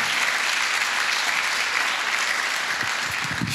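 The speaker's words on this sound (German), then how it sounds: "Gib denen nochmal einen kräftigen Applaus." A church congregation gives a worship team a dense, steady round of applause during a service, the sustained clapping filling the room at even loudness for several seconds with no talk over it.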